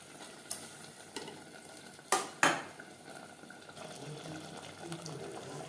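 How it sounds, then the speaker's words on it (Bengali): Mutton mixed with fried onions and bay leaves in a pan for biryani, with a few sharp metallic clanks and scrapes of stirring followed by a soft sizzling hiss, close and fairly quiet. "ভাজা পেঁয়াজ ও তেজপাতার সাথে মাটন বেশ ভালো করে মিক্সড করে দেব"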